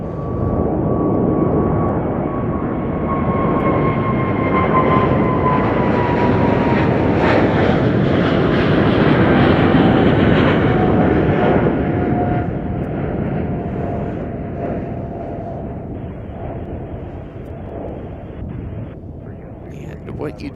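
A China Cargo Airlines jet at Chicago O'Hare makes a loud, steady engine roar with a descending whine that lasts the whole stretch and slowly fades near the end, with people talking faintly underneath.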